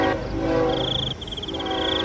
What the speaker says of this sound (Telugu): ట్రైన్ చప్పుడు కూడా వేగంగా వస్తుంది.